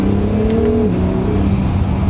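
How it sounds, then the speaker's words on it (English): A turbocharged Acura NSX supercar revs with a steady, loud engine drone, and a brief wastegate whoosh shifts its pitch partway through, close and continuous. "A little bit of wastegate."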